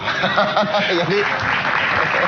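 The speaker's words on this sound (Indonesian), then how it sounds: "kenapa tepuk tangan?" Studio audience applauding on an Indonesian television talk show, a steady wash of clapping with a few chuckles, while a voice talks over it.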